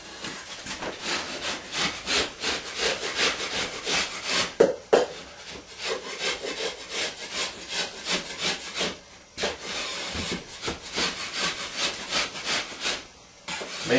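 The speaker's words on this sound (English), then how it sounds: "take our knife, scrape this flat before we start taping the angle" A drywall knife scrapes dry hot-set joint compound flat on a ceiling in quick repeated strokes, a rough rasping scrape that pauses briefly, with no talk.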